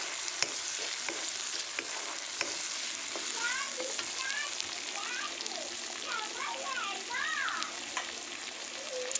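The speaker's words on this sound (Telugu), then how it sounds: "ఆయిల్ సపరేట్ అయ్యేంత వరకు వేయించాలి" Steady oil sizzle and frying crackle of prawns throughout, with occasional stirring scrapes and voices talking faintly over it.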